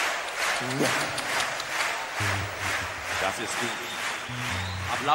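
A concert audience in Oberhausen fills the space with a steady, broad wash of applause and crowd noise, loud and continuous, while someone talks over it.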